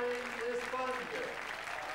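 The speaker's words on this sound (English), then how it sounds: "he applauds Miguel Indurain, the great winner" Crowd applause at the 1993 road cycling world championship ceremony, a faint, continuous clapping wash heard under a commentator's talk.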